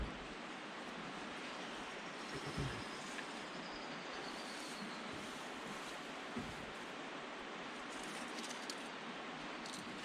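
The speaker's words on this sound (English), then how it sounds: "I can hear the water filtering in the background." Steady soft rushing of water trickling through a filter runs throughout, a continuous trickling wash in the background with no voices.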